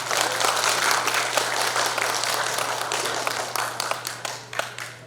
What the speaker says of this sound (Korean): 다시 한번 우리 김영호 부총리에게 큰 박수 부탁드리겠습니다